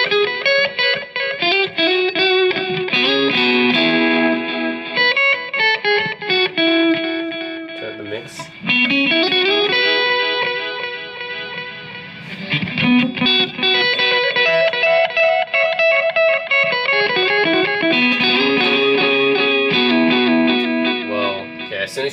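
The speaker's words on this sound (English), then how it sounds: "I'm gonna turn up the echo delay" Electric guitar played through echo delay pedals such as the Keeley Caverns, Maxon AD9 and Catalinbread Belle Epoch, with the mix and delay turned up, giving sustained chords and notes trailed by dense repeating echoes, loud and continuous.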